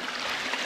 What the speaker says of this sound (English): Got this beautiful little waterfall and creek here.